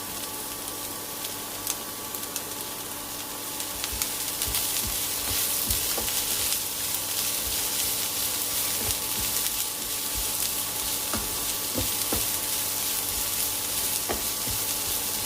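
Onions sautéing in oil with green chilli, ginger and garlic for carrot rice, a steady close sizzle throughout with occasional spoon taps and scrapes against the pan, no talk.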